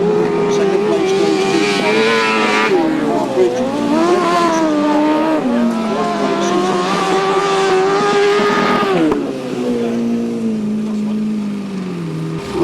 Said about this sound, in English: Another heat of the 1000cc sidecars.